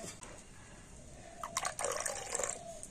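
A little water poured into swollen semolina batter, heard as a soft, close trickle and splash lasting about a second after a quiet start.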